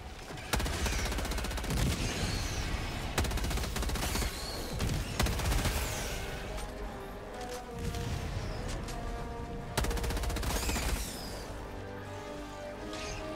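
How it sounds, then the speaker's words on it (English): Orbital strike barrage in Helldivers 2, a loud sustained roar of rapid explosive impacts and crashing blasts in dense bursts, with a brief lull before another heavy volley. "Firing orbital strike."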